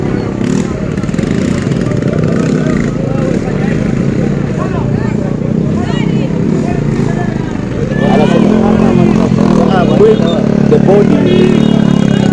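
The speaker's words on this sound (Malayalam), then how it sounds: "this bodaboda that are moving" Boda boda motorcycle taxis ride around at a village funeral in Kenya, engines droning and revving close by amid crowd chatter and voices, getting louder after eight seconds.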